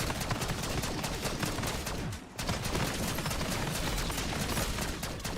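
Close, continuous bursts of rapid gunfire fill a Black Ops 6 zombies match and run almost unbroken except for one brief gap, harsh and dense throughout with no talking.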